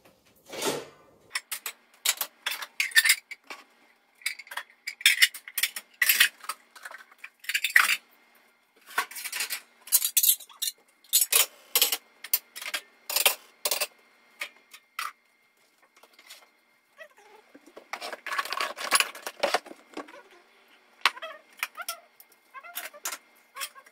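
Dishes and cutlery are washed by hand in a home kitchen, with irregular bursts of sharp clinks and clatters close by, separated by short quiet pauses.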